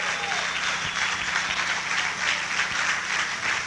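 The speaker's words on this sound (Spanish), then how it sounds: "Dale un aplauso a Jesucristo." Applause from a church congregation during a Spanish-language worship service, a dense, steady wash of many hands clapping for the whole stretch, moderately loud and without a break.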